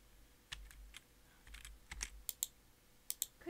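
Quiet keystrokes tap on a computer keyboard in short irregular bursts, with a few sharper clicks standing out against a faint background hum.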